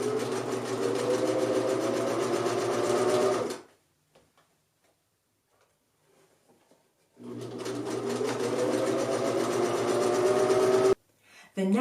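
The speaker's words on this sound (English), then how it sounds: "So now I'm going to go ahead and sew this" Sewing machine stitching a kilt apron seam in two long rapid runs, close and loud, separated by a few seconds of near silence.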